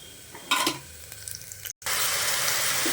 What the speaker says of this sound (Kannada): ನೋಡಿ ಮಟನ್ ಹಾಕಿದ್ದೀನಿ ಮಟನ್ ಹಾಕ್ಬಿಟ್ಟು ಫ್ರೈ ಮಾಡ್ಕೊಳ್ಳೋಣ